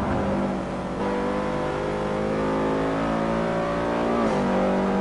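Race car engine in a Grand Sport racing game, held at a loud, close whine, dipping under braking into a turn, then rising again as the car powers out; steady, continuous and without voices.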